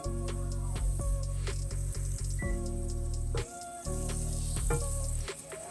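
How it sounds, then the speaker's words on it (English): Butter sizzles in a crepe pan as it is swirled to coat the surface, a steady, close frying hiss that cuts out briefly a few times, with light metallic clinks and no talk. "Take a little bit of butter into the pan, swirl it around, make sure everything's coated."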